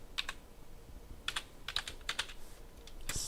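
Keystrokes on a computer keyboard while configuring a Squid proxy server, a few quick clustered taps with pauses between them, close and fairly quiet, no voices.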